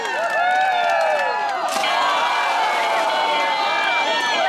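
A crowd at a Winterfest event cheers, whoops and claps for a man who braved the cold wind, loud and continuous with voices ringing through the noise.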